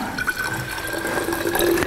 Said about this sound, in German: wir füllen erstmal mit ein bisschen Wasser auf.